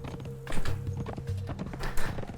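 Hooves of a modded horse clip-clopping in the video game Conan Exiles, a quick run of close hollow hoofbeats over a couple of seconds with a faint low in-game hum.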